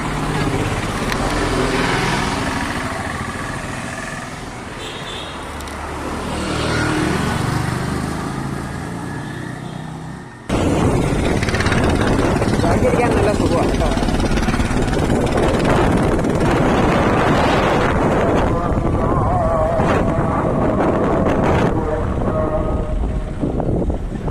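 Bajaj Chetak electric scooter ridden at night in eco mode: a steady rushing hum of motion and road noise, quieter at first, then abruptly louder and continuous, close and without talk.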